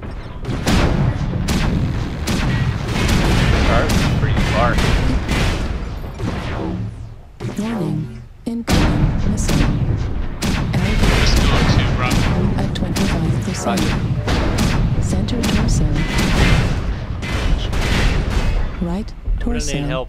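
Loud, dense weapon fire and missile impacts from the mech combat game MechWarrior Online: continuous booming blasts and rapid gunfire with only a brief lull, while voices talk over the battle.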